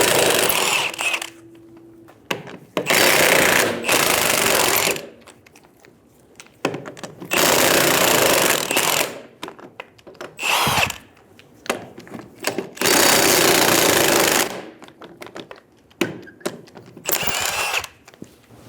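Impact wrench with a 19mm socket loosens four lug nuts on a 2000-2007 Ford Focus rear wheel, loud repeated bursts of hammering whir separated by short pauses, close up in a quiet garage.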